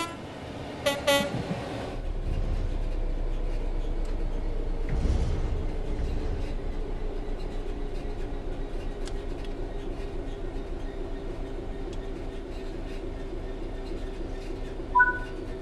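A train in Train Sim World 3 coasts on level track after the throttle is closed, giving a steady low rumble of rolling wheels throughout, with a short horn toot near the start and faint clicks later.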